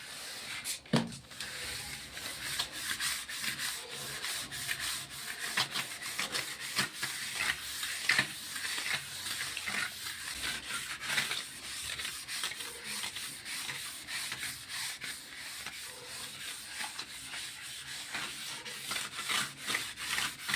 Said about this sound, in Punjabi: ਹੁਣ ਆਪਾਂ ਕੋਈ ਵੀ ਬੁਰਸ਼ ਲੈ ਲਓ ਨਹੀਂ ਹੈਗਾ ਤਾਂ ਸਟੀਲ ਬੁਰਸ਼ ਨਾਲ ਵੀ ਕੰਮ ਚੱਲ ਜੂਗਾ ਤੇ ਉਹਦੇ ਨਾਲ ਆਪਾਂ ਇਦਾਂ ਰਗੜਾਂਗੇ